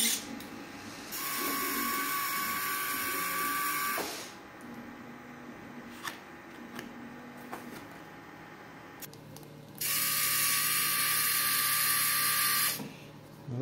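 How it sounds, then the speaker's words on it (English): A tiny hobby servo motor inside a budget R5-D4 droid gadget whirs in two bursts lasting a few seconds each, with small clicks and softer mechanical movement in between, close and fairly loud. "I can get away with just using a little tiny hobby servo to push it."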